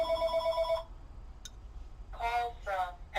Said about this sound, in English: I was really hoping the phone wouldn't ring while I was recording,